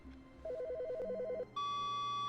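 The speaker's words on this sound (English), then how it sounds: "The phone's ringing." A ringing telephone in the video game The Stanley Parable Ultra Deluxe, a rapid warbling electronic trill repeating for about a second, followed by a steady, brighter sustained tone that holds to the end over a low background hum.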